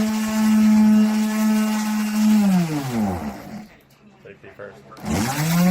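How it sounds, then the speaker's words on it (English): A power sander works a wooden Lego play table surface, its steady motor whine running loud and close before winding down to a stop, then spinning back up near the end. "I'm going to flip it over and sand the other side."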